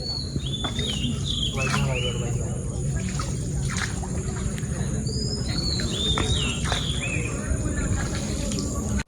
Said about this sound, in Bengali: আর পাখির যে কিচিরমিচির শব্দগুলা খুব বেশি সুন্দর লাগে ওগুলা।